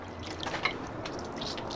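Water sloshing and dripping in a gold pan while panning crushed quartz, with soft trickles and small splashes close by.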